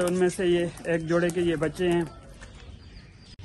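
Young pigeons coo in soft repeated bursts with a clear tonal warble for about two seconds. Then comes a quieter stretch of rustling and a sharp tick, and someone speaks over the birds.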